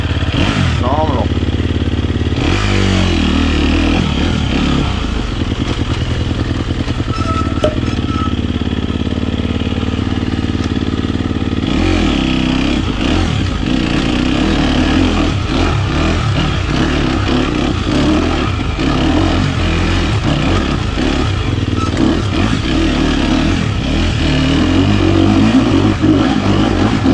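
Dirt motorcycle with a new exhaust riding off-road, its engine loud and close, revving up and down throughout while a rider talks over it.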